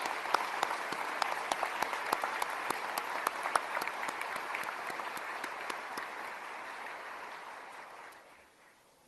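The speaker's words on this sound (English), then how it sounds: "Let's give these families a round of applause." An audience at a military change of command ceremony applauds, a broad steady wash of clapping with a few sharp individual claps standing out, gradually thinning and fading away.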